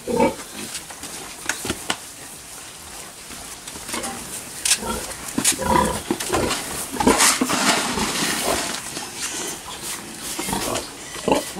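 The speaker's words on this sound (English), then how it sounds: "It's a fat little pig right there." A fat little pig grunting and squealing close by on a farm, irregular loud snorts and squeals over a steady rustling background, with people talking now and then.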